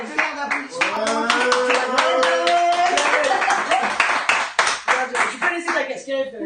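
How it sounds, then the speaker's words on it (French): Studio audience applause on a French television talk show, dense rhythmic clapping close to the microphones, with voices and a short musical phrase running through it before the clapping thins out near the end. "Je vous demande de passer un demi-heure d'applaudissements"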